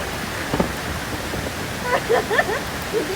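Rain falling at a cold mountain spring, a steady broadband wash of water noise throughout, with people talking over it in the second half.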